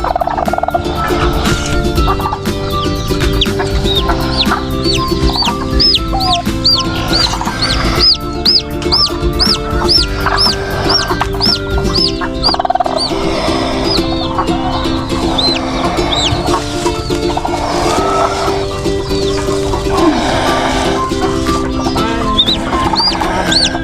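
Poultry in a coop with brooding hens and turkeys: a loud, continuous chorus of gobbling, clucking and squawking, with repeated overlapping calls close to the mic and no talk.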